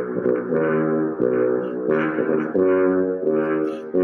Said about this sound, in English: It is the tuba.